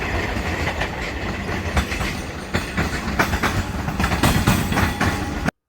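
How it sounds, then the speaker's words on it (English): A train rolling past close to a Melbourne tram stop, with loud continuous rumble and repeated clickety-clack wheel beats over the rails, sustained throughout before cutting off abruptly. "One thing that isn't quiet, though, is the trains."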